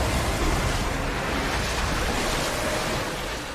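A rushing water effect from the stage of a live show at Gamescom Opening Night 2022, heard as a steady, loud, surf-like wash of broadband noise that holds throughout and eases slightly at the end.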